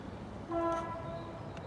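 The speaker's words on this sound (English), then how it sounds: "a train is coming out the tunnel, I believe, on the East Greensand line" A distant train horn gives a brief faint tone as a train emerges from a tunnel on a rail line near Oxted, heard far off over a soft outdoor rumble.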